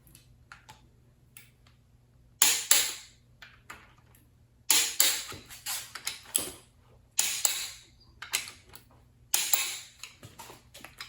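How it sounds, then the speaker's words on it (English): Torque wrench retorquing the connecting rod bolts on a Ford 427 medium riser short block, giving four sharp clicking bursts spaced a couple of seconds apart, each followed by lighter ticks, close and clear with no talk. "Okay, the rod bolts torque at 64."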